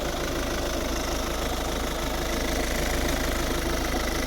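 A steady, loud 1.6 HDi diesel engine in a 2010 Volvo V50 idles with a continuous rumbling clatter, unchanging throughout and with no other sounds.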